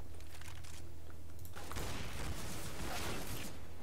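Gunfire in the game CS:GO crackles in bursts of several rapid shots, loud and close, building toward the end with a few mechanical clicks between.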